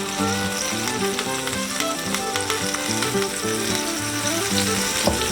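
Reuben sandwich frying in a pan over medium heat, a steady close sizzle running without pause, with banded tonal layers under it suggesting background music.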